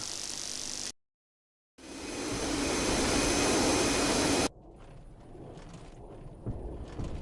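A military jet engine roars in the DCS flight simulator, a loud, steady whine and rumble that cuts out briefly, returns stronger, then drops to a lower idling hum with a high tone.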